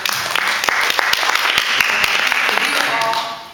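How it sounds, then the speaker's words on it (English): Audience applause at a candidates' forum for a Democratic club, steady dense clapping with sharp individual claps standing out, continuing throughout. "If you all can somewhat hold your applause, that would be great."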